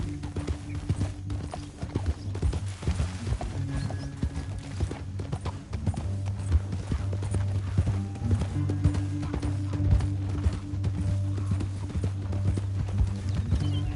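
Horses' hooves clip-clop steadily on hard ground in a Western scene, a continuous rhythmic clatter of several animals with a low hum beneath it.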